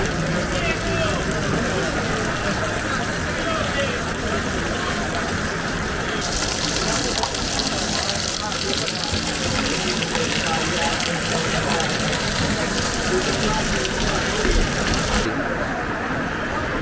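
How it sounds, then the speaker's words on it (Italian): Heavy rain pours down and water gushes from a pit garage roof at an RC nitro buggy race, making a loud, constant hiss and splash across the whole stretch. "Vedete alle mie spalle ragazzi quanto sta piovendo. Guardate l'acqua che sgorga dal tetto dei box"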